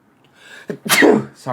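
A single sharp sneeze, close and loud, preceded by a brief intake of breath, with a person starting to speak right afterward.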